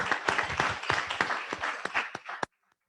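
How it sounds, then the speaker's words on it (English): A round of applause at a Rotary Club weekly meeting, many hands clapping together for about two and a half seconds before cutting off abruptly into silence. "let's have a big round of applause for the enormous number of guests."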